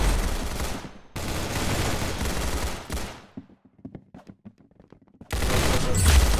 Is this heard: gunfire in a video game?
yes